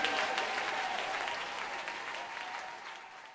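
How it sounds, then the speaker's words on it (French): A church congregation applauds together in a dense, steady wash of clapping that fills the space and slowly tapers, with no voices standing out. "Est-ce qu'on peut acclamer Dieu pour notre Seigneur?"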